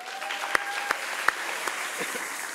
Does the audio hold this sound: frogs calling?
no